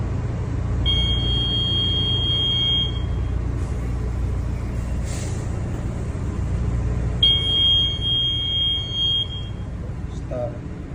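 Marine diesel engine running steadily in a ship's engine room, a heavy low rumble throughout, with two high electronic alarm beeps sounding in separate bursts over the drone.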